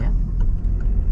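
A car accelerates during a driving lesson, its engine a low, steady rumble heard up close from inside over a brief moment.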